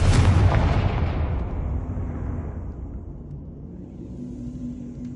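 Confringo fire spell explosion in the video game Hogwarts Legacy: a loud booming blast at the start that rolls off into a long, fading rumble.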